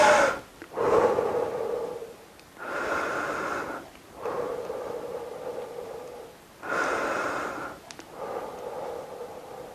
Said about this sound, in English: You can just breathe. I'm gonna breathe with you.